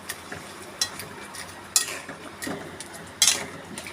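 Crab curry being stirred in a pan gives soft, intermittent scraping and a few sharp metallic clinks of a spoon against the pan edge, over a low background hiss.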